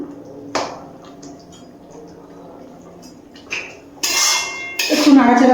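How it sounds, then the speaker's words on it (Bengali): Pabda fish curry with fried eggplant and a slit green chilli stirred in a pan: quiet clinks and scrapes of a utensil against the pan, then louder clattering bursts near the end. "একটু নাড়াচাড়া করে মিশিয়ে নিচ্ছি সবকিছু।"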